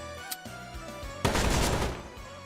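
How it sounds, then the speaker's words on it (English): Machine gun fire in the tactics game Metal Slug Tactics: a loud burst of rapid gunfire lasting under a second, preceded by a short sharp shot and quieter game sounds, with no talking. "She'll use her number 2 weapon, the machine gun"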